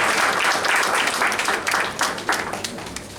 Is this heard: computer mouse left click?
no